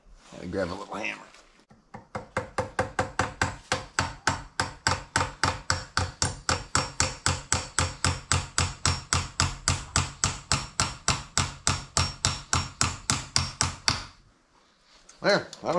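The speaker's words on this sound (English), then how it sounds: "I grab a little hammer." Rapid, evenly spaced taps of a small hammer driving a metal pin continue for about twelve seconds, close and crisp, with brief talk before and after.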